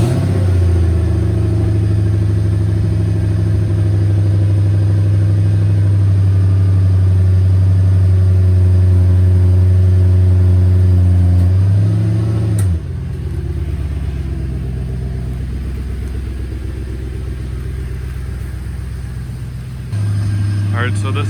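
A 4.3 liter car engine warming up: a loud, steady idle rumble that drops to a quieter, rougher hum partway through, then rises slightly again near the end.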